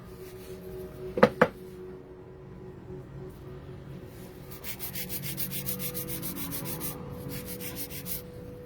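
An 80/80 grit nail file sands acrylic nails, with a quiet steady rasp of rapid back-and-forth strokes, after a couple of sharp knocks near the start.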